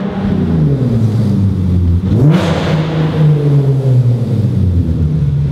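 An automatic Nissan 370Z engine held on two-step launch control, with a loud, close, steady high-rev drone and a brief sharp rise in pitch midway before it settles back.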